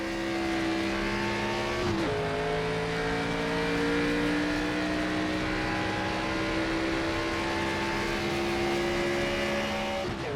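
NASCAR 25 Xfinity Series race car on a qualifying lap: a loud, steady, close engine drone holding high revs, a brief dip and shift early on, then climbing pitch as it pulls again, with no talk.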